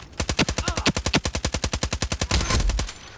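Automatic weapon fire in the shooter game Ironsight, on the Biolab map during team deathmatch. A long, rapid, evenly spaced stream of about twenty close, loud shots ends in a denser, heavier burst.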